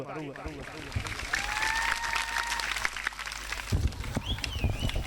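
A crowd at a village kabaddi match in Pakistan claps steadily, a dense continuous patter under a voice talking over it.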